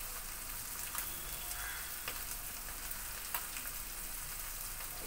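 Mola carplet fish stir-frying in a pan, a steady close sizzle with faint crackles and a few soft stirring clicks, no voices.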